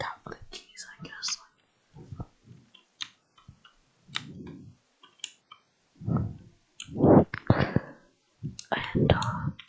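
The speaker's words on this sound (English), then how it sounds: "So I'm just gonna start off with my keyboard clicking" Keyboard keys are tapped in scattered, irregular clicks at close range, some single and some in quick clusters, between soft whispered talk and breathy mouth sounds in a quiet room.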